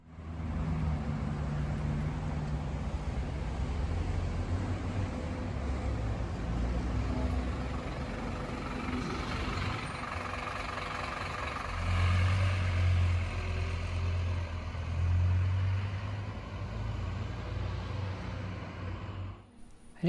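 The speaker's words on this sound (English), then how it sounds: "Now here is the Raymond Terrace bus leaving the bus station." The Raymond Terrace bus departs a Newcastle interchange bus station with a sustained low diesel drone that rises and pulses toward the end, over steady outdoor traffic wash, fairly close and without talk.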